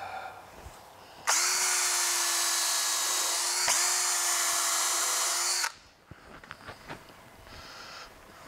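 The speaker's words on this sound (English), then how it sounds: "Just to make sure, I'm gonna put some screws in it." A power drill driving screws into a wooden CNC cutting table, one long loud steady whine lasting about four seconds with a brief dip partway through, then quieter handling noises after it stops.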